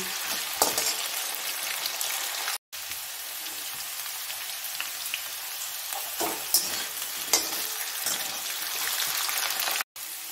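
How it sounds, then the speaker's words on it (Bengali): Potatoes fry and are stirred in a pan while cooking for a no-onion raw fig curry, a loud steady sizzle broken by two brief complete silences and a few sharper scraping bursts. "আলুটা বন্ধুরা ভাজা ভাজা হয়ে এসছে"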